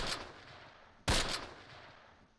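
One sharp gunshot cracks out in the Close Combat wartime strategy game, set at Hill 314 in August 1944. It is moderately close and trails into a fading echo, with no talking.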